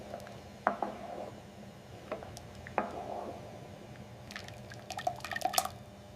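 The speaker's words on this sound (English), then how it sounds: "Stirring it gently." A spoon stirs Vietnamese red tilapia sour soup in a pot. Faint liquid sloshes and drips come in scattered taps, soft and close, with a few quick clinks near the end and no talking.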